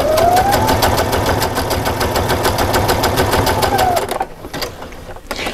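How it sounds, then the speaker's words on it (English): A sewing machine stitches a quilt sleeve along the fold. It runs in a steady, loud, close mechanical whir with a rapid needle rhythm for about four seconds, then stops and leaves quieter handling sounds. "it's going to stitch along the side and then swing over to the left and catch that fold"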